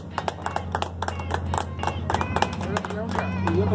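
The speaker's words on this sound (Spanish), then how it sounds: "Y yo quisiera brindarle un aplauso a la señora Claudia." A crowd at a film premiere claps for a woman named Claudia, scattered claps that thicken into fuller applause and grow louder toward the end. Voices and cheering mix in.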